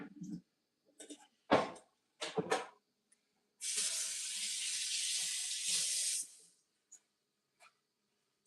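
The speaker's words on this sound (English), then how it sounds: "So I'm gonna get some water," Water runs from a kitchen faucet for a few seconds in a steady hiss, with clicks, clatter and brief sounds before it.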